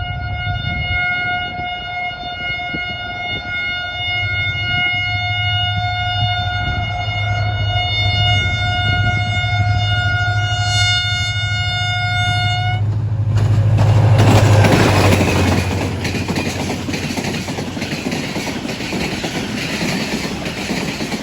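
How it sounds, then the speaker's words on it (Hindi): The 18 Down Millat Express pulls into Jungshahi railway station on a cool winter day. A long, steady horn blares for about thirteen seconds over the rumble of the train, then the horn stops and a broad roar of passing carriages takes over, loud and close. "एटीन डाउन मिल्लत एक्सप्रेस भी आ चुकी है"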